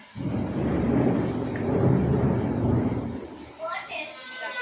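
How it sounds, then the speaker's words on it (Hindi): Steady heavy downpour roaring close by, a dense wash of noise for several seconds before easing, with faint higher sounds emerging at the end. "इतना बारिश हो रही है ना कि क्या ही बताऊँ।"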